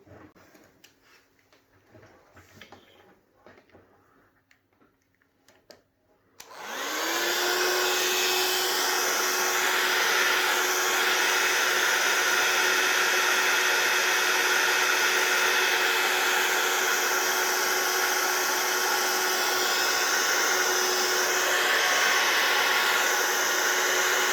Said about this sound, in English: So I'm just going to come in with my blow tool.